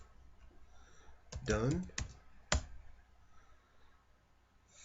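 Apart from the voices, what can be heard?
typing on a computer keyboard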